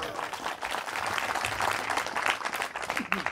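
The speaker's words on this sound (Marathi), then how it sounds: "भंतेजीसाठी एकदा टाळ्या वाजवा" An audience applauds a Buddhist monk at a public Dhamma sermon in Beed on Ashoka Vijayadashami, a steady crowd clapping that carries on for a few seconds, with voices mixed into the clapping.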